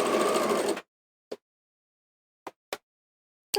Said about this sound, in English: Reverse back again and then carry on sewing.